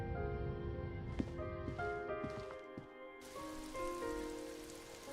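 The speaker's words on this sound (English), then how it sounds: "It's raining." Soft rain patters steadily in the video game Disco Elysium under a layered musical drone, with occasional squishy footsteps or taps.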